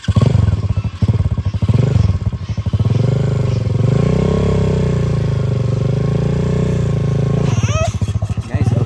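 A motorcycle engine revs hard nearby, clattering in pulsing bursts as the rider lifts into a wheelie on a paid farm riding track, with the note rising and holding before easing off.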